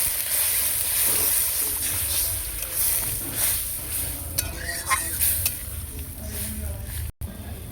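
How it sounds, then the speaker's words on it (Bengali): Water hitting a sautéed spice paste in a hot pan, bursting into a loud, close sizzle and hiss with a few stirring scrapes, then settling into a steadier bubbling simmer. "হালকা করে কষানো হয়ে গেছে আমার মশলা সেদ্ধ হওয়ার জন্য জল দিয়ে দিলাম"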